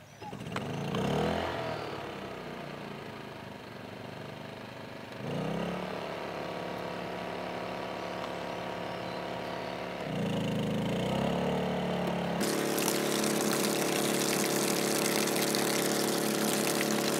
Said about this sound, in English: So I'm going to start with the generator.